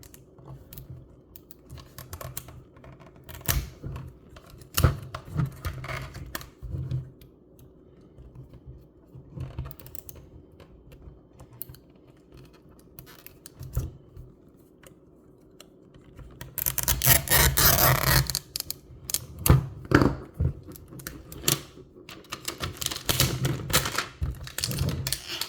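Paper wrapping is peeled off a Mini Brands Fill the Fridge toy package, giving scratchy, crackling rustles scattered through the clip and a louder, sustained tearing burst near the middle, with no talking.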